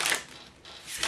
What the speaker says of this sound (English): So I'm going to do a little bit more shuffling with the cards.